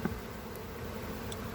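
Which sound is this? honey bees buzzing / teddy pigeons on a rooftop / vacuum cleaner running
honey bees buzzing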